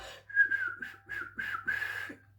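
A single person whistles a tune from Snow White, a soft, close melody in a few connected phrases with quiet gaps between notes.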